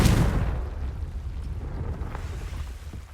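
Confringo fire spell blast in Hogwarts Legacy, a single deep boom at the start that decays into a rumbling fiery tail, close and fairly loud.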